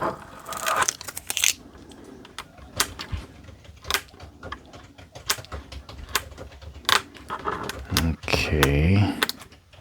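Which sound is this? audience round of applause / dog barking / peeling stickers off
peeling stickers off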